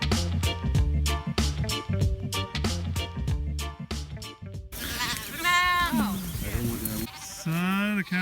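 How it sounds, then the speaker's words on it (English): Sheep bleat on a farm, first beneath a loud stretch of rhythmic music and then in the clear, with several wavering, drawn-out calls heard close by. "the cows and sheep are back in"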